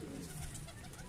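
Pigeons on a rooftop loft coo softly and continuously, a low murmuring close by with faint background noise.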